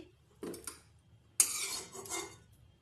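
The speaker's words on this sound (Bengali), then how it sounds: "আগে পাত্রে ঢেলে নিই" Pans clink as spinach-cauliflower curry is poured into a serving bowl: two short bursts of metal scraping and clatter at close range, with quiet gaps between.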